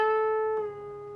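A single sustained electric guitar note from a solo rings out clearly, then its pitch slides as it is bent up a full step, played alone and close.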